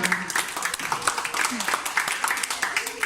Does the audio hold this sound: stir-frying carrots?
no